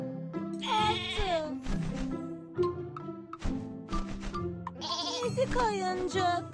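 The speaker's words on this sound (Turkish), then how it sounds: "İşte bir koyun." Cartoon sheep bleat repeatedly in quavering bursts, some overlapping, over a gentle continuous background of music, close by, from a children's animated show.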